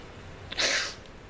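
A single sharp sneeze from a person bursts out over a quiet background, preceded by a brief intake of breath.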